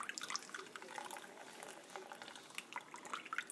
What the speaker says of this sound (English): So I've squeezed all the juice, and I really wring it well.